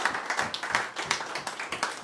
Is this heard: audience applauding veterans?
yes